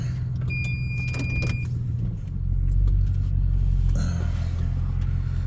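A car engine idles low and then rumbles louder as the car pulls away and drives on, with a short electric whine early on, steady and close throughout.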